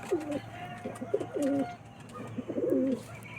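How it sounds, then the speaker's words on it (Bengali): Pigeons in a pigeon loft coo in soft, repeated rolling phrases, two clear bouts close by over faint background bird chirps, with no talking. "দেখুন গাইস এমনই সুন্দর সুন্দর কোয়ালিটির পায়রা আছে এখানে"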